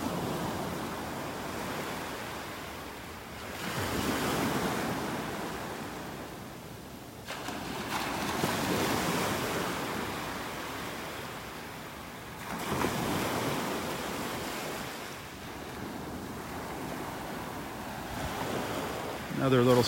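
Ocean surf rolls onto the beach at Delnor-Wiggins in North Naples, Florida, in slow repeating surges of washing noise with steady wind rumble between them. Faint talk sits underneath.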